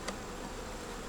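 Honeybees hum softly and steadily in an opened hive during an inspection of a few frames, a low continuous buzz with no talk.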